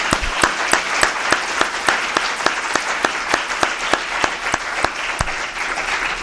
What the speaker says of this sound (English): why don't we give them a collective round of applause